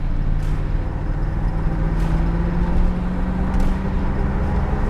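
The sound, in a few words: 1982 Chevrolet Corvette coupe engine accelerating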